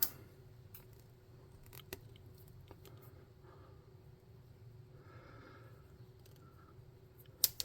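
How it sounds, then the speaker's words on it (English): Small scissors snip at a piece of craft material, a few faint, scattered clicks and cuts over quiet room tone, the last snip near the end the sharpest, with no one speaking. "If I can snip it down a little bit more"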